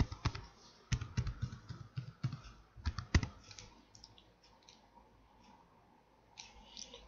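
Keys on a computer keyboard tapped in short uneven bursts while an account number is entered, crisp close clicks with pauses between groups, then lighter scattered taps, no one speaking.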